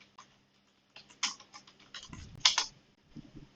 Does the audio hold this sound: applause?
no